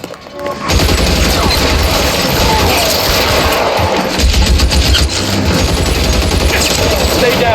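Loud, rapid machine-gun fire in the video game L.A. Noire, a dense sustained burst running almost the whole clip right after a sharp onset, with voices mixed in.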